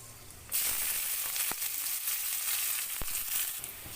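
Sliced onions dropped into hot oil with panch phoron, a bright continuous sizzle that starts abruptly and carries on steadily, broken by a couple of sharp clicks of a utensil against the pan.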